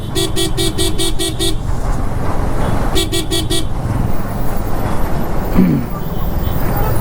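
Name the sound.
road traffic with car horns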